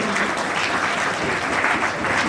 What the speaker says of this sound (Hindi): 53 लोग, ताली बजाओ, 53 लोग ही बजाओ